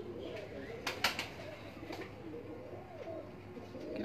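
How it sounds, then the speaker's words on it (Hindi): A pigeon coos softly on a rooftop loft in Punjab, low rounded calls repeating under nearby talk, with a few sharp clicks and rustles between. "ये भी बताएं कि ये कौन सा कबूतर है"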